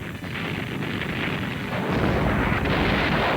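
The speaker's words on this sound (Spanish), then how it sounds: "Esto incluía el sistema de lanzamiento múltiple de cohetes Katyusha, llamado por los alemanes como el órgano de Stalin" Katyusha multiple rocket launcher, the Soviet 'Stalin's organ', firing a barrage: a continuous loud, dense roar and rumble of rockets launching, swelling in intensity partway through, with no voices.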